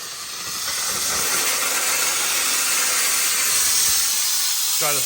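A Chief Steamer 155 240V steam cleaner blasts hot steam in a garage, a loud, close, continuous hiss that rises within the first second and holds steady throughout.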